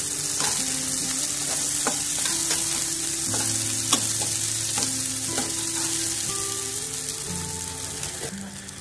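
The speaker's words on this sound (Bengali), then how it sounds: "দেখুন পেঁয়াজ দিয়ে দিলাম, পেঁয়াজটাকে আমরা একটু বেড়ে নেবো" Onions frying in hot oil with a bay leaf: a dense, continuous sizzle with occasional spatula scrapes and light clinks, close and steady throughout, with no voices.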